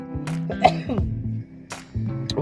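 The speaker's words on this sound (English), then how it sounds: "Y'all don't want this cough." A person with a bad cough coughing several times in harsh, throaty bursts at close range, broken by short pauses and some vocal sounds.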